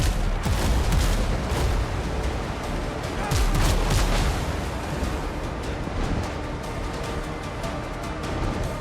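Ship cannons fire in the pirate video game Windrose, loud deep booms and rattling volleys repeating close by over an ongoing rumble of battle.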